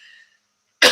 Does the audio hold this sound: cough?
yes